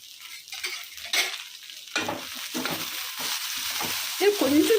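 Okra fries in a pan with a soft, steady sizzle, broken by scraping stirs and light clinks of a utensil against the pan, moderately close and without talk.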